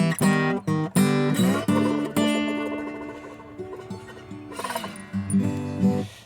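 Slide guitar playing a descending blues walk-down in open G tuning, strummed chords followed by sliding notes that glide between pitches, then a return to plucked chords, loud and close with no talking.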